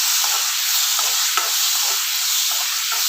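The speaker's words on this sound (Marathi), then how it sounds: "आपण कांदा चांगला भाजून घेऊया." Onion and tomato sizzle steadily as they fry in a pan, a constant close frying hiss with a few faint stirring scrapes and no voices.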